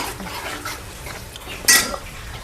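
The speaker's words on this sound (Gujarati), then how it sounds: "હવે આપણી દાળ ઉકળે છે, એને હલાવતા રહેવાનું કે નીચે ના બેસે તેના માટે" A spoon stirs boiling dal in a metal pot, giving soft bubbling and scraping, then a sharp bright clank of metal on metal near the end, close and fairly loud.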